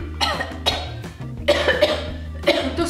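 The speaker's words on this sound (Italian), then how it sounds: "tossire in modo convulso" Repeated harsh coughing comes in convulsive bursts, several fits in quick succession, close and loud with throaty catches between them.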